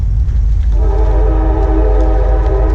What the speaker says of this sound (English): Got a train rumbling in behind us there.